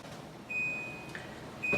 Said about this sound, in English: our timer is telling me it's ready